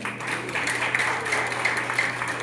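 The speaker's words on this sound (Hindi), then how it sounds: "एक बार मुझे फिर जोरदार ताली बजाइए" An audience at an RCM business motivation meeting claps, producing a dense, continuous wash of applause that holds steady throughout.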